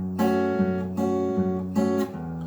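Acoustic guitar plays a fingerpicked pattern from a song's chorus, three plucked bass-and-chord groups repeating evenly, close and clear with ringing open strings and no talking.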